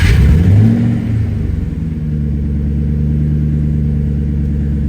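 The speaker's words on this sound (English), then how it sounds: "Let's get a cold start." A car engine cold starts with a brief starter crank and catch, then settles into a steady, close low rumble at fast idle.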